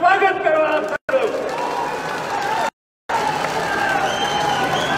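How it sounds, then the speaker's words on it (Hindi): A large crowd at a Congress political rally in Sanwer, Madhya Pradesh, applauds to welcome Kamal Nath. The dense, steady roar of clapping and crowd noise breaks off twice, briefly. "जोरदार ताकत से तालियों की गड़गड़ाहट के साथ कमलनाथ जी का स्वागत करो आप सब लोग"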